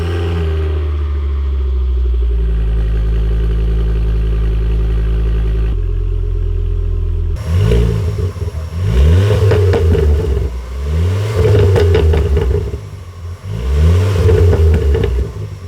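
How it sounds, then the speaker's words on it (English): A Ford Focus ST225 with a stock exhaust, resonator delete and sports cat idles with a low, steady burble, then revs up repeatedly in loud, close blips that rise and fall. "It does sound pretty good, you know, it's not too loud, it does burble a bit, a few pops here and there"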